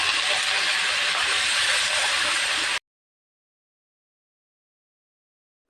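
Curry leaves with turmeric and fried dals hit hot oil while tempering a coriander-mint chutney, giving a loud, steady sizzling hiss for about three seconds before cutting to silence.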